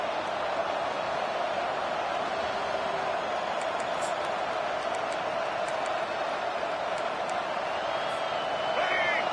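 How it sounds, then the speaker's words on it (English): A stadium crowd at a college football game roars in a steady, dense wall of noise that never lets up, distant and sustained without breaks. "This crowd, full throat, splitting the eardrums and letting them know it's going to be a long day."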